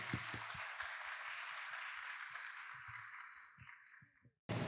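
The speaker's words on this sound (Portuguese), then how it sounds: "Uma salva de palmas." Applause from an audience at a community forum, a broad sustained clatter of many hands that gradually thins and fades out before a voice begins at the very end.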